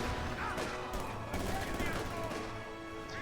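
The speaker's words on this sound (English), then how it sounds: "They get pinned up by this MG." Machine-gun fire and explosions during a Company of Heroes 2 4v4 match, dense rattling bursts over a loud battle din, mixed with an excited commentator's voice.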